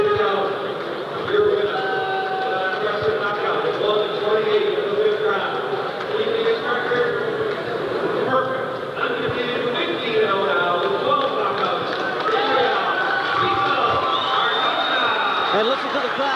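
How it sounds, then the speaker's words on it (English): A boxing crowd in a fieldhouse cheers and roars continuously after a fifth-round knockout, a dense sustained wall of noise with commentators talking over it. "And listen to how appreciative this crowd is of what they've just witnessed here."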